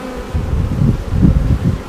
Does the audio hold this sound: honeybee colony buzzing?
yes